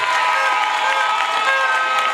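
A large outdoor crowd at a Chama cha Mapinduzi political rally claps and cheers loudly and continuously, dense applause mixed with shouts.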